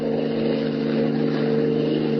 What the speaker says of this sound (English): His keen hearing detects an approaching motor